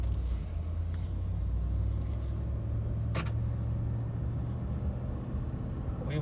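A tuned 2018 Ford F-150 with the 5.0 V8 on the road: a steady, loud low engine rumble with road noise, the pitch shifting as gears change, plus a brief sharp click partway through.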